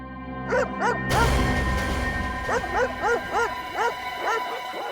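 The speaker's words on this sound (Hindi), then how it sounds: "कुत्तों के भौंकने की आवाज पीछे की तरफ से आ रही है" Several dogs bark and yip repeatedly in a steady volley, fairly loud and close, with a whimpering quality between barks; a louder burst of noise comes in early on.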